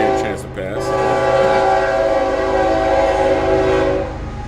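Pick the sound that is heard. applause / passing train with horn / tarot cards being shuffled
passing train with horn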